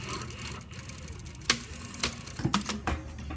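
A domestic sewing machine with a normal presser foot stitching a fly front zipper, a close mechanical whir with rapid needle clatter and a few sharp clicks and knocks as the fabric is handled; no talk.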